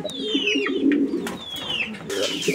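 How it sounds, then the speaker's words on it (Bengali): A pigeon coos close by, a throaty rolling call that repeats through the moment, while a person talks over it and faint chirps sound in the background. "আর ডাকটা দেখছেন একদম পুরোই পাগলা, আর মাথা নষ্ট ডাকের কবুতর"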